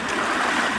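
Sea water washes in over a beach strewn with seaweed and shells, a short continuous rush of surf close by.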